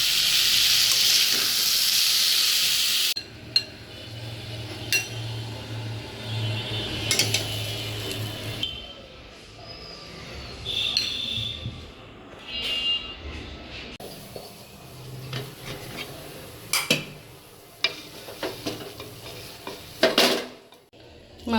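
Fish roe curry is stirred in a pan with a utensil scraping and clinking against the metal in irregular bursts, after a few seconds of running water at the start, with quiet kitchen clatter throughout.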